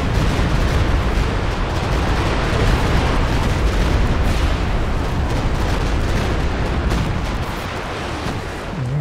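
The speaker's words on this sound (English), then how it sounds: "Firing on enemy forces. Artillery is converging on the enemy's exact position." Mortar pit artillery barrage in a World War II strategy game, a dense, loud rumble of overlapping explosions and booms rolling continuously without pause.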